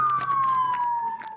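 Police car siren wailing loud and close in a steady descending tone, continuous for the whole moment with a faint background voice.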